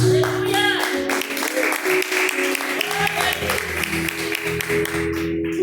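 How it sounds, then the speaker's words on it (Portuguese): A congregation claps steadily and continuously, with music and voices mixed in underneath the clapping. "Pode sentar as palmas bem alegres para Jesus."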